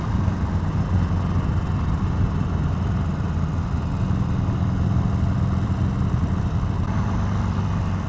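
A 2020 Harley-Davidson Sportster Iron 883 ridden in third gear on a commuting route gives a steady, continuous low engine rumble with wind, unbroken and fairly loud throughout.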